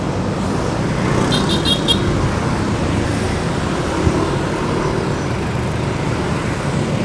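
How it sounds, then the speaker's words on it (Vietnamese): Dense street traffic in Saigon's Gò Vấp district around Quang Trung and Nguyễn Kiệm streets, a steady loud roar of motorbikes and cars with a few short horn toots early on, no talking. "Ngắm cạnh đường xá xe cộ là chính thôi."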